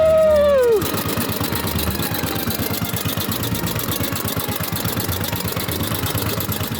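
A 115-year-old motorcycle engine chugs along under way, with a rapid, steady knocking beat; a falling whine at the start gives way to the loud, even, rattling thump of the old single-cylinder motor.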